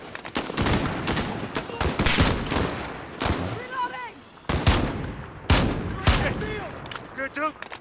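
Modern Warfare video game gunfire, loud repeated bursts of rapid shots with short pauses between volleys and a player talking over them.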